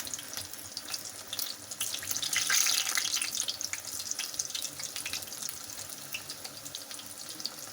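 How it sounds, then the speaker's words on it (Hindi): Aloo tikki patties made with rice flour frying in hot oil over a medium flame, giving a steady, hissing sizzle with bright crackles that swells briefly partway through and carries on alone without any talk. "ये गर्म हो गया है, मीडियम फ्लेम पे हम इसको फ्राई करेंगे।"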